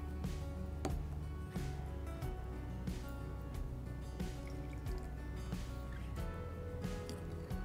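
Thick, sauce-like Ugadi pachadi made with neem flowers being poured into a glass, with soft drips and liquid splashes set against steady background music.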